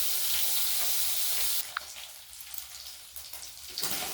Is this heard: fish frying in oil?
yes